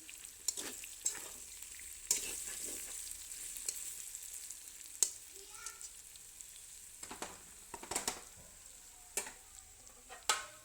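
Chopped tomato, capsicum, carrot and onion cooking in a little oil in a pan give a faint, soft sizzle. Scattered light scrapes and taps from stirring come through at irregular intervals, quiet and close, with no talking.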